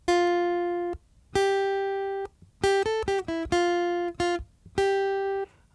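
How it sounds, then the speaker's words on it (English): A guitar plays a slow melodic line of single sustained notes, about seven phrases with short gaps between them. It is clear and close, with no talking. "Let's hear the guitar."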